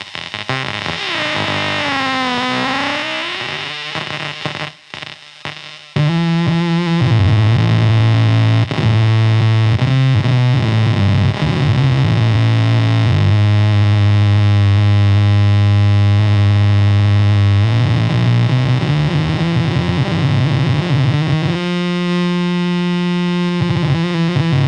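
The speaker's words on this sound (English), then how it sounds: "Right now we've got the feedback quite high, and so you can hear it running away." Distorted delay feedback builds and runs away into a loud, sustained, wobbling electronic drone with swelling repeats and harsh harmonic tones.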